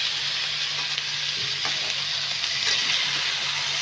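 Tomatoes sizzle and hiss in a hot pan for kurma, a steady close frying crackle with faint scrapes of stirring.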